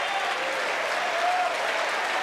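A church congregation applauds steadily at a Portuguese-language worship service, a dense, even wash of clapping with no pauses that holds at the same level throughout.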